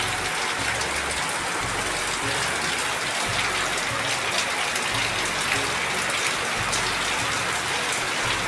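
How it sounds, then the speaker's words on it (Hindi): Heavy rain pours down in a steady, dense hiss, close and continuous, with no voices. "बहुत बारिश हो रही है।"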